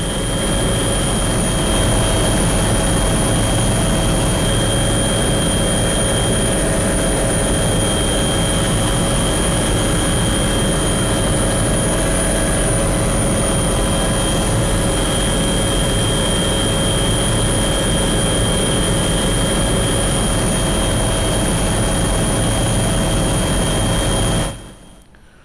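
Helicopters patrol over dense forest during a security-forces combing operation in the Karreguttalu hills, a steady, continuous engine and rotor drone that holds level for about 24 seconds before cutting off abruptly, with no voices.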